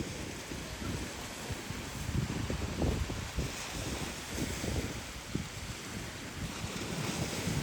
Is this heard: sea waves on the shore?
yes